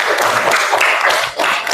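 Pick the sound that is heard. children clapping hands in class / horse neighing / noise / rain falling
children clapping hands in class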